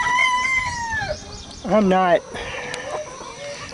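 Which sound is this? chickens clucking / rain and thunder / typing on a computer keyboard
chickens clucking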